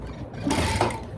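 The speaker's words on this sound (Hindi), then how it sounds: "हमें उसको बस इतना आधा 1 इंच ही उठाना है और इस तरह उसको सिलाई लगा देंगे।" Sewing machine stitching a frill onto a dress made from a saree, a steady close mechanical whir running throughout with a slight surge midway.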